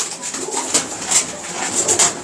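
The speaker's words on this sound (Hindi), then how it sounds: "कासिम भाई का कबूतर देखिए" Pigeons belonging to a fancier's loft coo in a few soft, repeated calls at close range, with no one talking.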